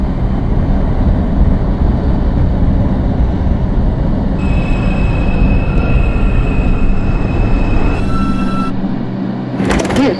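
A New York City 2 subway train from the OpenBVE simulator rumbles steadily and loudly along the track, with a thin high whine joining partway and a brief hiss near the end, no voices.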